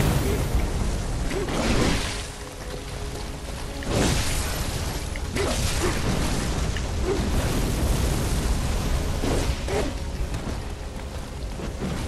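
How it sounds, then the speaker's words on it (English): Molotov cocktails burst into flames in Bloodborne, a series of roaring fiery whooshes and booms repeating every couple of seconds over a dense crackling rumble. "Take my Molotov,"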